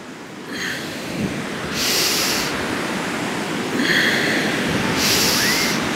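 Slow, deep breaths during a kundalini kriya, inhaling and exhaling in long airy swells that rise and fall about every two seconds, close and steady under a soft hiss.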